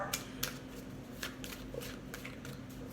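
Tarot cards being shuffled, soft papery riffles and slaps repeating every fraction of a second, close but quiet over a faint background hum.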